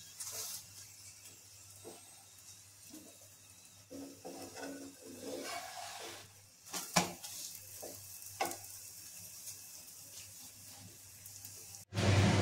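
A potato paratha fries lightly in a pan, making a soft, low sizzle with scattered scraping and stirring sounds that build midway, then end in a sharp clatter; no one speaks.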